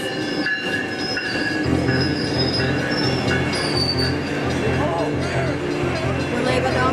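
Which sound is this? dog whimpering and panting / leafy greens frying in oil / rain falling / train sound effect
train sound effect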